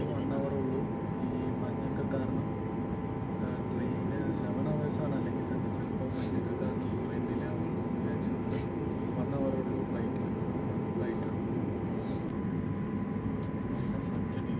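Constant low, broad roar of an airplane cabin in flight to Bergen, Norway, unchanging throughout, with faint murmurs of talk beneath it.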